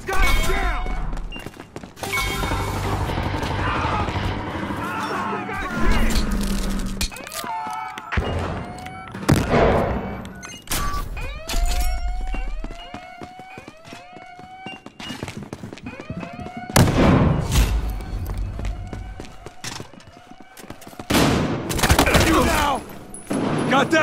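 Heavy gunfire from the video game Battlefield Hardline, sustained bursts and fusillades with thuds and impacts, loud and close, mixed under excited shouting voices.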